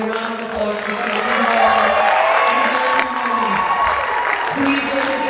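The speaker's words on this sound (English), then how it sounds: "So please, everybody, give a round of applause for Helen." Spectators at a high school girls basketball game clap and cheer for a senior, a full, loud crowd sound with whoops and voices mixed into the applause throughout.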